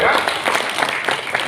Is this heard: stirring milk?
no